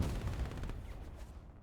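Heavy, rumbling bursts of gunfire and booming shots in a World War II battle game, loud and overlapping at first, then trailing off into a rolling fade.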